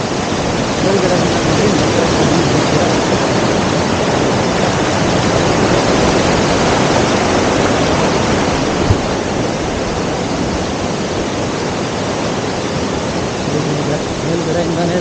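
Ketanahalli waterfall near Bengaluru, running with reduced flow after low rain, gives a loud, unbroken rushing roar heard close and steady for the whole stretch.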